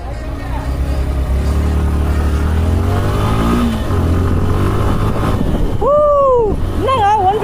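A Suzuki Gixxer 155 motorcycle runs on a test ride, its engine droning steadily close to the microphone with wind rush, and a voice talks over the engine noise near the end.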